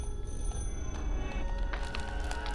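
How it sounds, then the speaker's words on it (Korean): A telephone rings inside a horror-style video game, repeated bright metallic bell trills sounding close and fairly loud against a low background hum, with no talking. "전화기 소리가 여기가 가까워지는데?"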